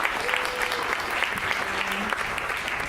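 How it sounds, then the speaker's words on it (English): Loud, sustained applause from an audience, steady clapping filling the whole stretch with some crowd noise underneath. "Please give a big round of applause to Jill Silva."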